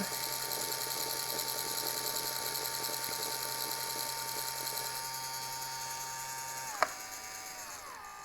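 Small pottery wheel motor whining steadily while throwing metal clay, its tone climbing as it speeds up near the end, with a single sharp click; close, continuous and without talk.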